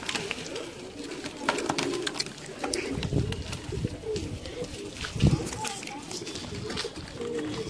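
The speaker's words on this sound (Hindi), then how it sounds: "ये देखिए कबूतर" Pigeons coo softly in a low, throaty murmur at a pigeon loft, with a couple of louder coos standing out among rustling and a voice talking nearby.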